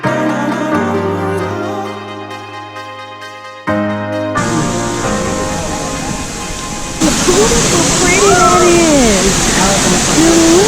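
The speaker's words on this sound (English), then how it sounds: "We made it to the waterfall." Music plays first, then the steady, loud rushing roar of a waterfall in the Dominican Republic takes over, continuous and close, with faint voices over it.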